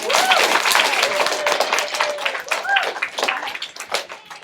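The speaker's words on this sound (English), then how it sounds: "can we give her a round of applause for this?" A classroom claps during a Skype call, a brisk scattered burst of applause from a small group with voices and cheers mixed in, fading toward the end.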